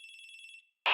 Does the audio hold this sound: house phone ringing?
yes